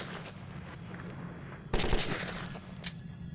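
Machine gun fire in the video game Metro 2033 comes as a dense burst of rapid shots near the middle of the clip and a shorter burst near the end, over a low ambient game hum, with no talking.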